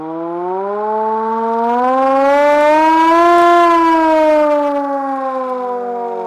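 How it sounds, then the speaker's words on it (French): Hand-cranked siren from a siren orchestra winding up, a loud close tone gliding steadily upward in pitch and then easing slightly as it holds, sounding alone without any voices. "avec la sirène à main, on le perçoit vraiment très bien"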